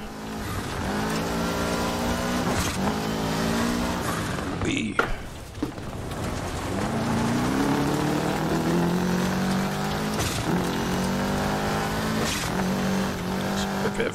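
Rally car drifting in Dirt Rally 2.0, a constant loud engine drone with shifting pitch, gear changes and tire squeal through the corner, with talk over it.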